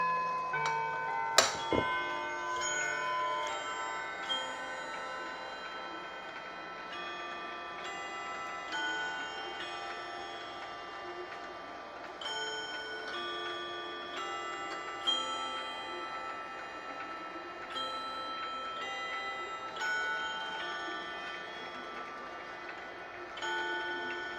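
A room full of running collector's clocks ticking steadily for about 24 seconds, overlapping ticks with a sharp knock near the start and sustained ringing tones throughout.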